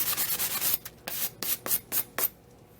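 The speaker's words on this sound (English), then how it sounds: "So I have this foam sanding pad, basically for the finishing touches to your projects." A knife blade being sanded with a foam sanding pad: quick rasping rub strokes, close and fairly faint, a rapid run followed by about six slower, evenly spaced strokes.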